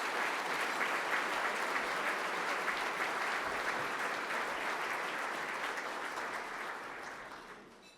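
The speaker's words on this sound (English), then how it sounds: "let's please give a big round of applause to all of our sponsors" Sustained audience applause for sponsors at a business excellence awards gala, dense and even clapping from a large crowd that holds steady for several seconds before tapering off at the end.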